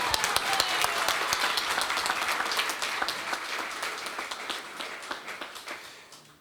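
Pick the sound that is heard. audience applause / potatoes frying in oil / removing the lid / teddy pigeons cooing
audience applause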